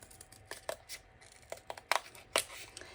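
Scissors or a blade cut thin cardboard for a book folding art piece, with a few sharp crisp snips and rustles, close and fairly quiet, no voices.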